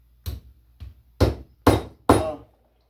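Five sharp hammer strikes drive upholstery tacks into the padded seat of a homemade wooden shaving horse, each blow a separate close knock with a short ringing decay, spaced unevenly with quiet gaps.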